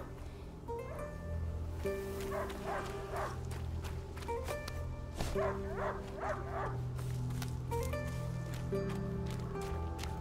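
A dog barks repeatedly in the game A Plague Tale: Innocence, a string of sharp yelps in two bursts over a steady musical drone, with faint footsteps and movement underneath.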